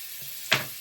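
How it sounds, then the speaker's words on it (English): Butter drops into pork chop drippings in a hot skillet, giving a quick close burst of sizzle that rises out of a quiet background and fades within a moment. "So to the drippings in our skillet, we're going to add a little bit of butter"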